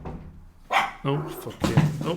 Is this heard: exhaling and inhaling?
no